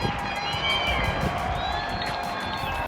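A crowd applauds and cheers for hospital staff in London, with dense rhythmic clapping and scattered whoops from many people spread around the street, steady and lively throughout.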